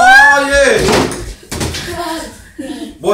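A door is opened and then slammed shut with a sharp bang about midway through. Loud, excited voices talk over and around the slam.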